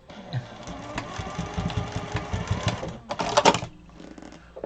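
A sewing machine runs steadily stitching quilt pieces, a fast mechanical needle chatter with a brief louder burst near the end before it slows and stops.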